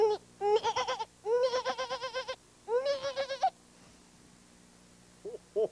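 A performer on a comedy show's animal-imitation contest bleats like a goat with his voice: three loud, wavering, quavering bursts, then two short faint ones after a pause.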